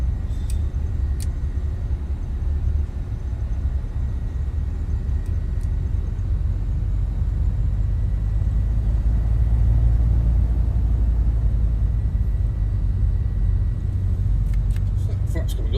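A piston Duke aircraft taxis along a runway in Microsoft Flight Simulator 2024, producing a steady, deep engine rumble that runs at an even level throughout the whole stretch.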